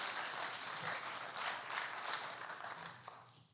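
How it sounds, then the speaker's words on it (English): At a high school sports player-of-the-year awards ceremony, a faint, distant round of applause for honorees rises and eases off over a few seconds. "So give them a round of applause, please"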